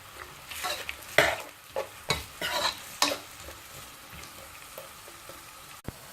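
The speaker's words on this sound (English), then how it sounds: "Leave them to fry until they turn a nice golden brown." Onions and ginger garlic paste fry in hot oil, a low steady sizzle broken by several loud spoon scrapes and clatters against the pan, then quieter frying and a final sharp knock.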